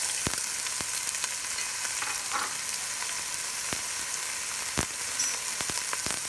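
Ginger, garlic and green chili sauté in a pan for a spicy Kerala-style watermelon rind pickle, with a loud, dense, continuous sizzle and a few sharp clicks of stirring.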